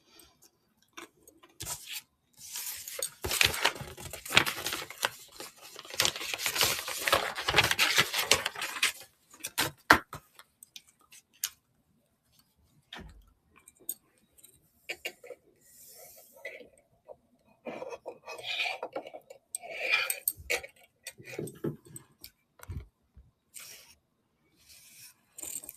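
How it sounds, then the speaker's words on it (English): Crunchy munching on corn nuts, close to the mic, comes as dense clicking bursts early on and then in scattered patches, with quiet gaps between them. "Sorry you're hearing me munch."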